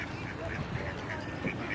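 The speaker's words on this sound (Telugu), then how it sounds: "చూడండి బాతులు పోతున్నాయి వాటర్లో." Small ducks swimming in water at a small waterfall in Qatar give short, faint quacks scattered through a murmur of outdoor background noise.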